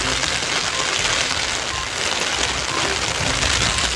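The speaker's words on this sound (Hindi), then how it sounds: "किसान की धान की फसल किस तरह बारिश के पानी में भीग रही है" Steady, dense rain pours down on a harvested paddy rice crop in a village field, a loud continuous hiss of drops without pause or voices.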